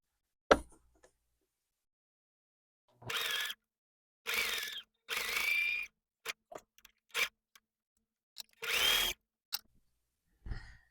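A sewing machine stitches quilt fabric for an improv wonky house block. Short motor whirs of about a second each stop and start several times, separated by silence and a few sharp clicks.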